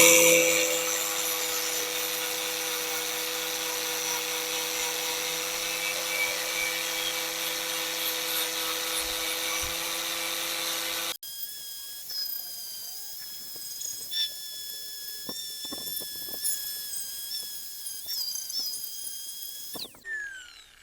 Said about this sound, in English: nasty paint stripper. Goes on the angle grinder